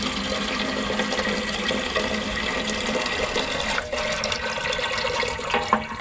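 Water gushes steadily from a garden hose onto a hydrangea patio bed, a continuous close splashing rush that holds its level throughout, with no talking.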